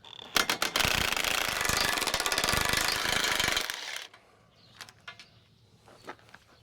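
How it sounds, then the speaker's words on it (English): An impact or power tool rattles loudly at close range for several seconds while removing bolts from a Kuhn GA300GM hay rake, then stops, followed by a few metallic clanks and handling noises. "Got the last bolt out here."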